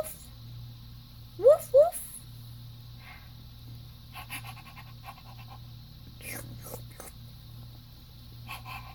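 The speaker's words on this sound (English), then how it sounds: "He's a puppy dog." A puppy pants in short breathy bursts close by, a couple of sharper puffs standing out against a quiet room with a steady low hum.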